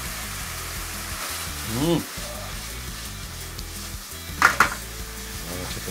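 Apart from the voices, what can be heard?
minced meat sizzling in pan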